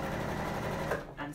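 A sewing machine stitches fabric in a close, steady mechanical whir of rapid needle strokes that stops abruptly near the end.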